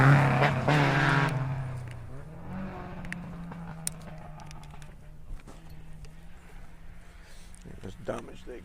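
Rally car, a Ford Fiesta on a forest stage, with a damaged exhaust roars past close and loud, then its raspy engine note fades into the distance while a commentator talks.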